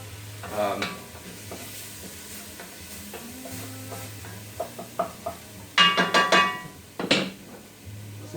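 Bourbon chicken cooking in a pan over medium heat gives a steady low sizzle, broken by scattered stirring scrapes and a burst of clattering utensil knocks near the end.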